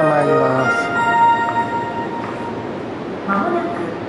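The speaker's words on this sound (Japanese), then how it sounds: "電車参ります。" A Shinkaisoku rapid train bound for Ogaki rumbles into platform six with a low rolling noise and faint bell-like chimes, while a Japanese station announcement carries over the platform.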